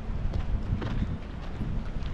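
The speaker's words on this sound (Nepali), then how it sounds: "यहाँ हावा नै हुई हुई आइरहेछ" Wind buffets the microphone outdoors in Mustang, a low rumbling roar with uneven gusts and thumps throughout, with no voices.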